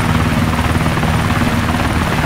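A helicopter flies in the video game DayZ, its rotor a loud, steady, thick thrumming drone that holds unchanged throughout, with no talk over it.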